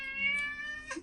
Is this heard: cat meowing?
yes